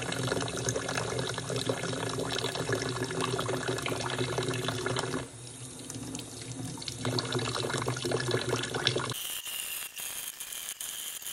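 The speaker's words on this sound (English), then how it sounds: "just a little bit of hot water and a little bit of the soapy water to get started" Hot soapy water runs steadily from a tap while subgroup master modules from a Midas Heritage 2000 mixing console are cleaned. A light rattle sounds within the flow, which stops abruptly near the end.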